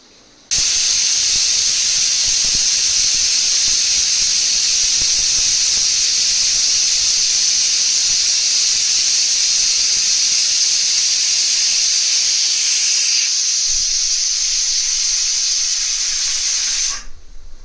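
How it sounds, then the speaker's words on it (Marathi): A pressure cooker whistles while cooking Kolhapuri misal, a loud, steady, high steam hiss that holds for about sixteen seconds, shifts slightly near the end, then cuts off abruptly, with no talking. "आता आपण दुसऱ्या शिट्टीची वाट बघतोय"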